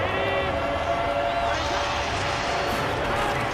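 Football video game stadium crowd, Broncos at Chargers, a dense steady roar of cheering fans that fills the whole moment at constant high level, with an announcer's voice blended in.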